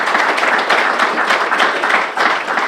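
An audience at a civic event applauds steadily in a dense, continuous round of clapping, loud and close throughout with no talk over it.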